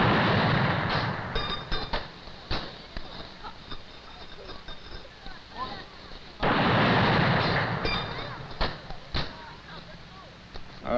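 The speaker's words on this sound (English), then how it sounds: "The President has entered the cemetery and is receiving a 21-gun salute at the present time." Cannon blasts of a 21-gun salute boom out at a cemetery during a Veterans Day ceremony, heavy reports spaced a few seconds apart with echoing rumble between them.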